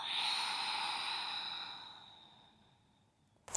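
One long, unhurried exhale in a breathing exercise, gentle and airy, heard up close, easing off gradually over several seconds before a small click-like sound at the very end.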